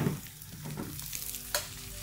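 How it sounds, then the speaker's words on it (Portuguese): An egg frying in lard in a pan crackles with a steady close sizzle as the pan is shaken, with a few sharper pops and scraping stirs along the way. "Aí você pode ir chacoalhando assim, ó, para poder espalhar melhor o seu ovo dentro da panela."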